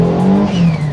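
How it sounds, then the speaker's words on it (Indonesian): A modified race car, a 320 hp Honda Brio with an L15 engine, spins its wheels at launch, its engine revving loud and close in a brief burst. "Oke, mobil spin."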